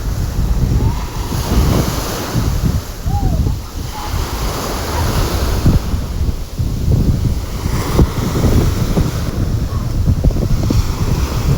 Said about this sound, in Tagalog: Kasi yung mga pebbles yan sa buhangin, kinakatkat ng alon yan eh.